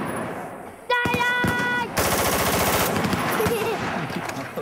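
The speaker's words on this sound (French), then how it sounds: "Tu veux essayer de tirer super vite?" Rapid bursts of gunfire from a firearm fired by a child as fast as possible, loud and dense, with crackling shots that run almost continuously and fade slightly toward the end.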